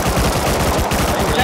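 Rapid automatic gunfire from a PvP match in the survival game Rust, a loud, continuous burst of evenly spaced shots filling the whole moment.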